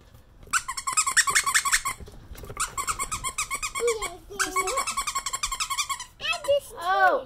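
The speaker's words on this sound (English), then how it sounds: "This plush is perfect for interactive play, fetch, squeaks, and even cuddles with a side of dino snores." A plush dinosaur dog toy squeaks in rapid repeated bursts, several squeezes in a row with short pauses between, loud and close, followed by higher whiny squeals.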